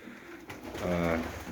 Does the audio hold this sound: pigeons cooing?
yes